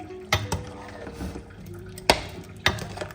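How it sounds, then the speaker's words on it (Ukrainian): Spoon stirring garlic and dill in a metal cooking pot, with soft scraping and a few sharp clinks against the rim, close and fairly quiet with no talking. "кинула чесник і укроп. Отак перемішую."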